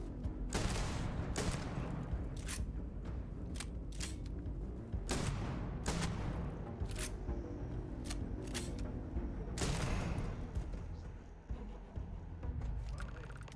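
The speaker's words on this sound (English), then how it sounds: "Nothing like a little bit of shotgun justice." Shotgun gunfire in the space game Starfield, played on hard mode: a handful of sharp, loud blasts spaced irregularly over steady combat noise, with no voices.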